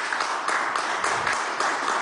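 Applause sent from a government briefing room toward San Cristóbal, Táchira, a brief and fairly soft patter of clapping hands that holds evenly throughout.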